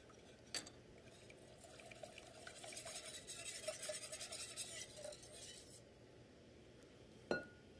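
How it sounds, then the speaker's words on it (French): Cream being stirred in a pan as two spoonfuls of Nutella melt into it for a chocolate-hazelnut panna cotta, a steady soft swishing and scraping with a few light clinks, close and alone without talk. "2 bonnes cuillères à soupe de Nutella qui va fondre donc dans la crème."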